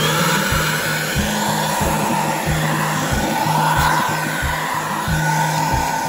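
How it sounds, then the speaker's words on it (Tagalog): A Lotus 4-liter, 1,100-watt wet and dry vacuum runs steadily and loudly up close while sucking up torn paper, a continuous airy roar with a rhythmic pulsing rumble underneath and no talking. "Ubos lahat ng papel sa vacuum."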